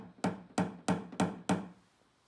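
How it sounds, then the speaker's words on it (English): Five sharp metallic taps, evenly spaced about a third of a second apart, as a PDR hammer and tap-down knock down high spots on a dented Tesla Model 3 panel inside a garage, close and distinct with a brief ring after each. "I'm gonna grab the hammy and tappy, and wherever we're slightly high, give it a little tap"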